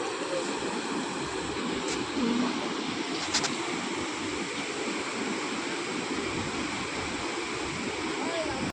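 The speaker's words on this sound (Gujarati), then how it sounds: "નદીનું વિકરાળ સ્વરૂપ છે કે નહીં, ડેન્જર પાણી જાય છે" Swollen river water rushes loudly and continuously after heavy rain, a dense roaring wash filling the whole stretch, with a brief faint voice barely rising above it.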